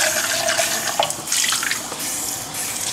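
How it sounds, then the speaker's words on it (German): Tap water running into a plum cake baking mixture, a steady bright gushing splash with slight fluctuations, close and loud with no talking. "Jetzt kommt auch Wasser rein."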